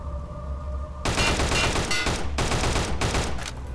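Sniper gunfire in Return to Castle Wolfenstein: after a second of low background rumble, a sudden loud burst of dense, crackling shots erupts and keeps rattling with short breaks, close and harsh, with no talk.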